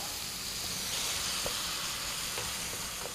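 Minced pork fries in palm oil with carrots in a pan, giving a continuous broad hissing sizzle with a few faint scrapes of stirring, moderately close and without voices.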